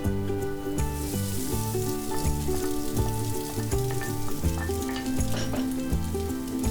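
Crushed boiled eggs frying in a pan for egg pulao give a steady, close sizzle throughout, with a faint stirring texture and a continuous musical tone running beneath it.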